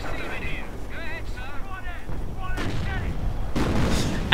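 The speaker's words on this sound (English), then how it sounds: "And artillery fires in, another volley from the Hummel." Artillery volley from a Hummel in a video game: two heavy, rumbling blasts follow each other about a second apart, after a stretch of talk over low battle noise.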